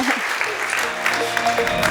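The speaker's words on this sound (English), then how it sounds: "Let's give Joris a big hand of applause." A conference audience claps for a product speaker in a full, continuous round of applause at moderate distance, with a voice faintly heard beneath it.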